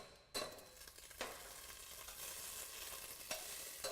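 Butter hisses and sizzles in a hot pan for searing, a soft steady crackle broken by a few sharper bursts as food is stirred or moved, with no talking.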